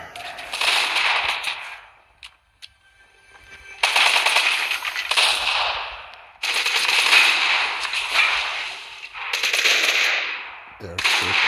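Bursts of rapid automatic gunfire from players in a battle royale video game, loud and dense, coming in long volleys separated by short pauses.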